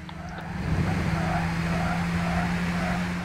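Racing car tires in Gran Turismo 6 squeal under hard cornering over a steady, droning engine, the screech wavering in repeated swells across a few seconds.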